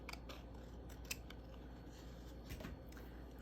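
Scissors snipping close by in a quick series of sharp cuts, with a low steady hum underneath.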